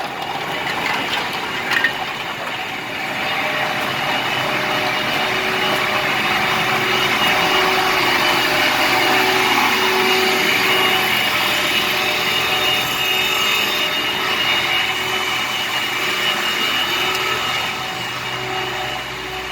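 A box cooler fan in a corn processing plant drawing in outside air and recirculating it, a loud steady broadband roar of rushing air and machinery that holds constant throughout.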